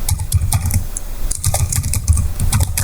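Fingers type quickly on a computer keyboard, with close, loud bursts of clicking keys in irregular rhythm and brief pauses, no voices.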